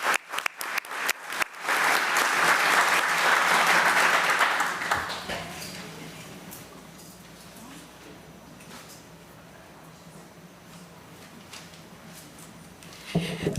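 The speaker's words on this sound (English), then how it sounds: "Let's give her a round of applause as she comes." A room at a school board meeting breaks into applause, scattered claps building into a full round that then fades to a murmuring crowd, with a few claps returning at the end.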